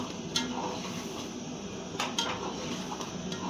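Whole spices, including black pepper, are roasted in a pot for green chicken karahi while a spoon stirs them. The sound is faint, with scraping, a few sharp metallic clinks and a soft sizzle. No voices are heard.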